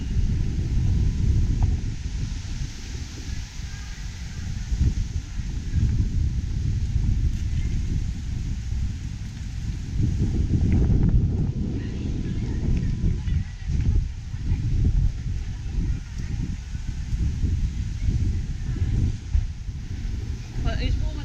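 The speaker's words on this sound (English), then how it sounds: "Wind that makes it a bit chilly" Steady wind gusting across an open cruise ship deck, a continuous broadband rush with low buffeting, carrying on for the whole stretch with occasional voices underneath.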